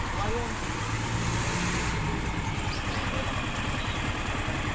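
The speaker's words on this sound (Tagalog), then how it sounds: "Tahimik na yung makina." A Kawasaki ER150N motorcycle engine idles steadily up close, a low, even rumble with a constant mechanical putter and no voices over it.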